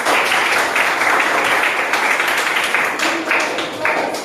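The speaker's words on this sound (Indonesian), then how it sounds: "Tepuk tangan lagi." Students in a mathematics class on matrix addition and subtraction applaud a group after its presentation, giving a loud, dense round of clapping that stays steady before tapering slightly near the end.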